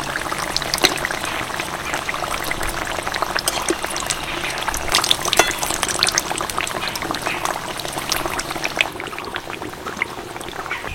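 Potato chops deep-frying in hot oil, a steady dense bubbling crackle that runs unbroken and fairly loud from start to finish, with no one talking.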